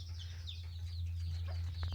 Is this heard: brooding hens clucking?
yes